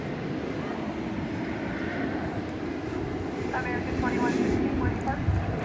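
Aeromexico Connect airliner passing at DFW Airport, a steady broadband jet roar that swells slightly toward the end, with someone talking over it.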